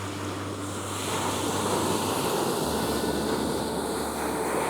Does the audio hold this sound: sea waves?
yes